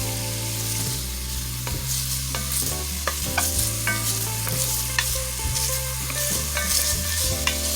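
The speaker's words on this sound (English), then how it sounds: "I'm going to go ahead and add in the onion. We're going to let that saute for 2 minutes." Chopped onion sautés in a pot on medium heat while collard greens are being made, giving a steady close sizzle with stirring scrapes over a bed of tonal background music.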